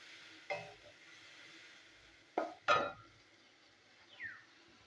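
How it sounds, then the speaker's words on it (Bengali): Spice paste stirred in a hot pan, soft faint sizzle with a few sharp scraping strokes of a spoon against the metal, scattered across a quiet stretch with no talk. "তো মশলাটাও আমি কষিয়ে নেবো।"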